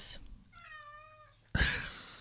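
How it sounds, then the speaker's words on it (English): A black cat meows indoors, one drawn-out, wavering mewl heard close and fairly soft, coming after a brief noise and followed by an abrupt louder rustle or bump. "the black cat walks into the room"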